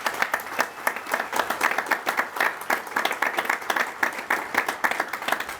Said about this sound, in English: Let's give them a big warm applause.